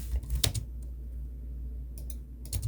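A computer keyboard is tapped a few times while a CAD fillet command is entered, giving sharp close clicks at the start and a short cluster near the end against a steady low hum.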